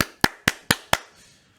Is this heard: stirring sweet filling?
no